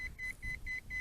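A Holystone HS700E drone's controller emits a steady series of short, evenly spaced high beeps, about four per second, at maximum range, faint over a low rumble.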